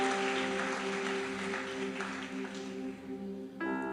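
A church congregation claps for God during a Portuguese-language worship service, with sustained applause over steady held organ or keyboard tones, and the clapping fades toward the end as the music shifts.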